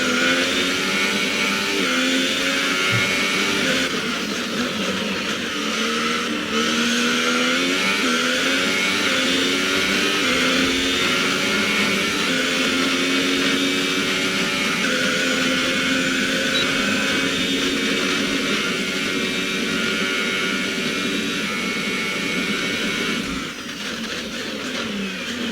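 Steady, continuous whine of an F1 race car engine from the F1 2018 video game during a practice lap at Brazil, rising and falling with gear shifts and revs throughout, loud and alone with no talk.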